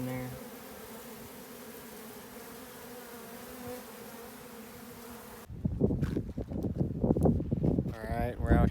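Honeybees fan at a beehive entrance during a desert hive removal, a steady close droning hum that runs alone for several seconds before talking takes over.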